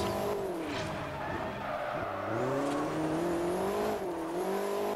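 A race car in the Forza video game drives hard, its engine whining and shifting in pitch with tire noise.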